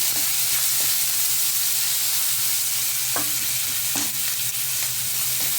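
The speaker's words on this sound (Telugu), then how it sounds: "ఇప్పుడు ఉల్లిపాయ కాస్త ఇట్లా ఫ్రై చేసి" Onions sizzling as they fry in a pan, with a steady close hiss and several light stirring scrapes. Nobody talks.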